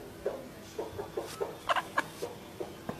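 An Aseel hen gives scattered, soft clucks at irregular intervals, a few sharper calls mid-way, against a quiet background with no talking.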